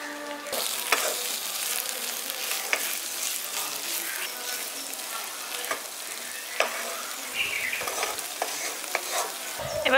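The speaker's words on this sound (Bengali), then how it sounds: "দেখুন টমেটোটা এখানে ভাজা ভাজা মতো করে নিচ্ছি আমি।" Tomatoes and ground spices frying in a pan for a village-style tomato bharta, a close, busy sizzle broken by frequent scraping and tapping as the mixture is stirred.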